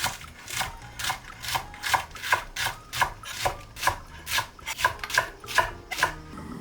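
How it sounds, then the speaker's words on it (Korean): Green onion being sliced with a knife on a cutting board, a quick even run of about a dozen crisp chops in steady rhythm, close and clear with no talk. "대파는 쫑쫑 잘라주세요."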